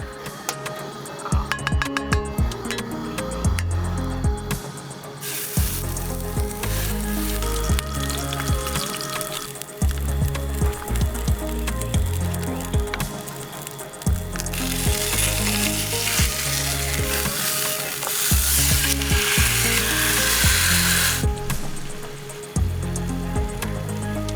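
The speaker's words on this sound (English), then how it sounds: "now we're gonna cook that salmon" Salmon frying in a pan at a campsite, a steady loud sizzle that runs throughout with stirring and occasional clatter from utensils.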